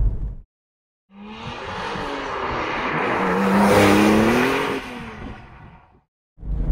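Porsche 996 911 Turbo driven hard, its raucous engine swelling from silence into a loud, rising rev that peaks and then fades away, followed by another burst starting at the end.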